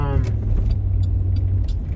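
Car cabin on a night drive through snowy Chicago streets, with a steady low engine and road hum and faint clicks and rattles, continuous and close throughout.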